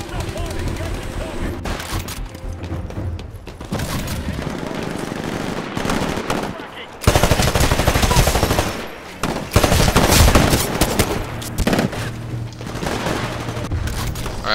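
Rapid, dense SMG gunfire in the game Titanfall, with sustained bursts and explosions layered throughout, loud and continuous, with game sound effects and some voice underneath.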